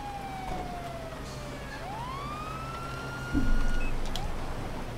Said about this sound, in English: let me cut the siren off